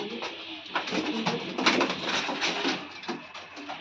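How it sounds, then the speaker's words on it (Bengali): Pigeons coo repeatedly nearby, soft throaty rolling calls overlapping one another, with some rustling in the background; among them a green-crested male. "হ্যাঁ, এটা খেলা পায়রা রয়েছে।"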